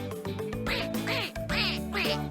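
Duck quacking repeatedly near a homemade fidget toy: several loud, nasal quacks in quick succession, close and clear, sounding over a tonal background.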